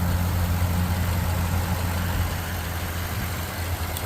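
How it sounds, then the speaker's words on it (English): A 2015 Toyota Land Cruiser 200 Series idles with a smooth, low, steady engine hum, quiet and even, heard close with no voices. "Motor's nice and quiet"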